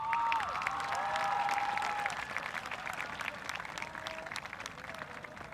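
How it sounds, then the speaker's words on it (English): A graduation audience applauds in honor of the graduates' families, a full round of clapping that is loudest at first and then slowly thins and fades toward the end. "And so I think that they deserve a round of applause"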